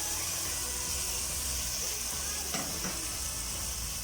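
Washed garlic with cumin, turmeric and salt fries in a pan with a steady, close sizzle, and a couple of brief scraping stirs rise over the hiss.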